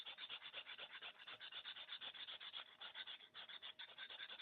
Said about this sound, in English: scrape the knife against the surface to scrape the green part off